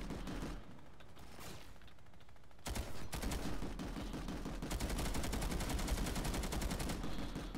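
Rapid automatic fire from a SAW-like machine gun in Planetside 2 rattles in long, fast bursts, broken by a brief lull, then resumes louder and denser toward the end, with no talk over it.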